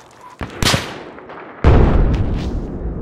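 Gunfire in a first-person shooter video game: a couple of sharp booming shots followed by a louder blast with a long rumbling decay.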